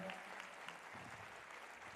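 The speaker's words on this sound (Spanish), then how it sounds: "Un aplauso, por favor." Audience applause welcoming a guest chef at a Latin American gastronomy talk, a soft, steady patter of clapping from a seated crowd heard at a distance for the whole moment.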